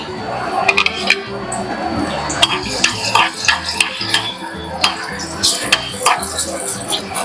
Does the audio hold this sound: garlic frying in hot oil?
yes